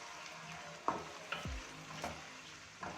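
Chicken with ginger-garlic paste sizzles steadily in a pan while a spoon scrapes and stirs it in a few distinct strokes, close and fairly quiet, with no voices.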